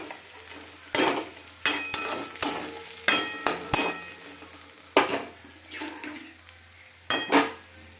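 A utensil stirs kalai greens with sugar in a cooking pan, making about a dozen sharp, close scraping and knocking strokes in irregular bursts over a faint background hiss.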